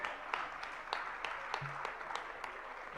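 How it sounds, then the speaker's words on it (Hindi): Faint, scattered applause from an audience at a Jain religious discourse gathering during a welcome ceremony, steady sparse clapping with a few sharper claps standing out over a low hall hum. "आप सबकी जोरदार तालियां भी हम चाहेंगे"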